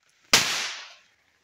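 A single Diwali firecracker bursts with one sharp, loud bang that trails off in a hissing decay over about half a second, set against near silence.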